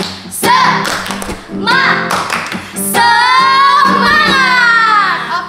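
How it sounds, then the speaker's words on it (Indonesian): Rhythmic group clapping from children's 'tepuk semangat' chant at a Sunday school worship service, claps beating in a quick pattern mixed with chanting voices and talk throughout. "Tapi Sebelumnya kita mau tepuk semangat dulu"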